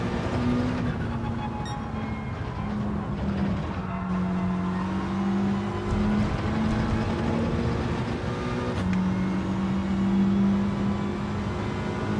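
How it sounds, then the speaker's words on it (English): A race car engine in Gran Turismo 7 revs steadily, its pitch climbing and dropping as it shifts through the gears, with several gear changes, loud and continuous throughout with no talking. "Starting to hear the engine note now for the gears a little bit more."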